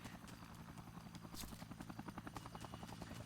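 A helicopter in the Dead Rising video game, its rotor beating in a steady, rapid chop at low level with no other sounds over it.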